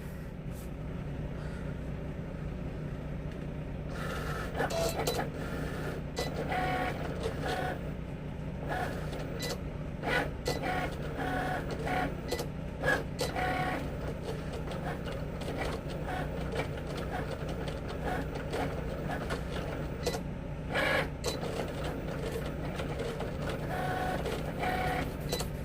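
Cricut cutting machine cutting vinyl on a mat, a steady mechanical whirring hum broken by repeated short carriage moves and clicks, close and continuous for the whole stretch with faint background noises.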